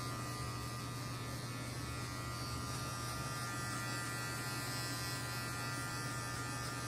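An electric hair clipper runs at normal speed while cutting hair in a barber's fade, a steady close buzzing hum with no talk over it.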